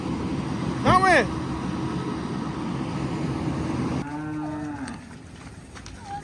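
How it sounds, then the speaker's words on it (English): Cattle moo twice, a loud drawn-out low first and a softer, longer one a few seconds later, over a steady engine-like hum. "Yeah, some nice cattle there."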